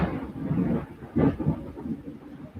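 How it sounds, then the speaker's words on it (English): Thunder from an approaching storm rolls in low and muffled, with a louder rumbling swell in the middle amid faint wind, fairly distant and heard alone. "Yeah, that was a good crack of thunder."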